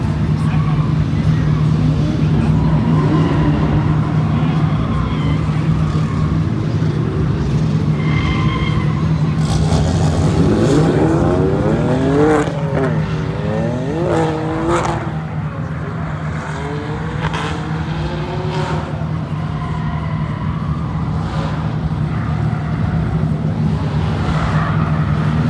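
BMW E46 driving at the RioBash 2024 event, with a steady engine drone throughout and tire squeal sweeping up and down near the middle, while a person talks over it.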